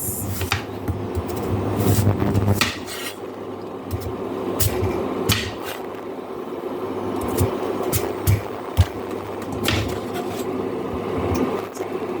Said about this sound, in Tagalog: So, hiwain natin ng ganito yung ating carrots.